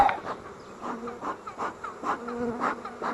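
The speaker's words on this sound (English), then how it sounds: "Once again, I got a lot of bees here." Many bees buzz near a hive opened for inspection, a close, wavering drone that swells and fades in short pulses. No one speaks.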